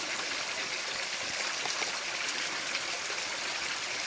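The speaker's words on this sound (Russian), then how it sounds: "деревня стоит на ручье на этом" A village stream in Russia flows with a steady, close, hissing rush and trickle of water, continuous and even, with no voices.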